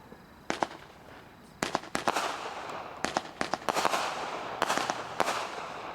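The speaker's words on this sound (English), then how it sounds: "Now 25's Titanium Beast. It's a 25 shot cake." A Titanium Beast 25-shot fireworks cake fires a series of sharp bursts, lift thumps and crackling reports in irregular clusters, heard from a moderate distance against a quiet outdoor background.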